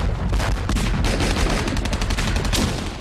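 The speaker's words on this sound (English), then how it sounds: "They were supported by a constant air and naval bombardment from the invasion fleet." Dense, continuous battle gunfire and explosions at Iwo Jima in the Second World War, with overlapping rifle and machine-gun bursts and heavy booms from air and naval bombardment, loud and unbroken.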